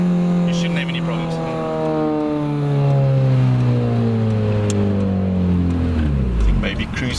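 A Honda Civic Type R engine accelerating through the gears, a loud rising roar that sweeps upward, drops at each shift and climbs again, heard close from inside the car.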